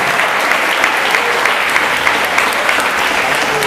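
A church congregation claps hands during a Portuguese-language worship service at a praise congress, a dense, steady roar of applause that fills the space throughout with scattered sharper claps and no clear voice on top.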